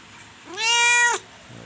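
A pregnant pet cat gives a single loud, drawn-out meow, close by and clear, with no talking around it.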